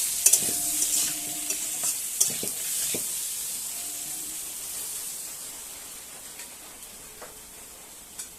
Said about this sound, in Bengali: জিরে ফোড়ন দিয়ে ওলটা দিয়ে দেবো। এটা ভালোভাবে ভেজে নেব।